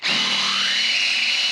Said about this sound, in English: And it shouldn't take too much to drill it out now.